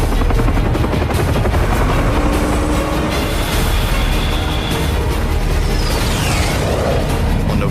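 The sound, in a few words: attack helicopters in Vietnam war footage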